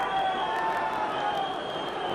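A football crowd of about 24,000 at an evening Leeds United vs Rangers Champions League match in 1992/93 gives a steady, distant stadium roar with faint scattered shouts and whistles.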